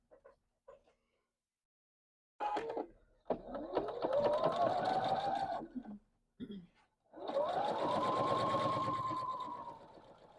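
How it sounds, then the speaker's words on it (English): A sewing machine runs in two close bursts, whirring up to speed as it stitches a quilt block seam along a drawn line, with a brief pause between runs and a few soft clicks before it starts. "let me sew it on the line"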